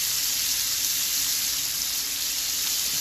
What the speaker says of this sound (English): get the butter in, a little bit of these onions, these shallots